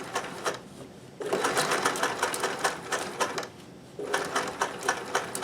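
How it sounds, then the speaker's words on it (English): Sewing machine reverse stitching and then sewing forward along a fabric hem: quick clattering bursts of stitches, broken by a short pause near the start and another near the end. "Then we'll reverse stitch, and then off we go forward."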